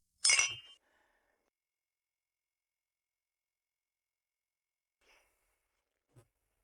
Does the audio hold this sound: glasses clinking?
yes